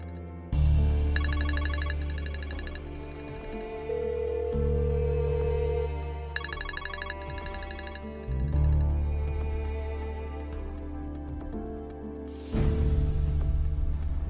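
A phone ringtone plays in several repeated bursts over about fourteen seconds while the call goes unanswered. It is loud and close, and no one speaks.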